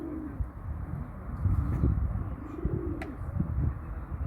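Soft, low cooing of Arab white-tail tumbler pigeons repeating in rounded phrases, close by, over a rumbly background.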